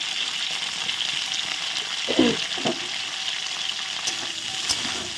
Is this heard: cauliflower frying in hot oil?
yes